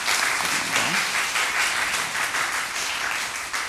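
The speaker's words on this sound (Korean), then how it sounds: "우리 박수로 환영해 주시면 감사하겠습니다" A church congregation applauds in welcome during a Korean worship service, a steady, dense wash of clapping from many hands lasting several seconds, with faint voices mixed underneath.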